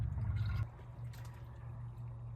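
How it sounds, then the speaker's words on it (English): Water poured into the radiator of a Dodge D100 truck to top off the coolant, a steady low gurgling flow with a brief brighter splash near the start, continuous and close. "Topping off with water from there on."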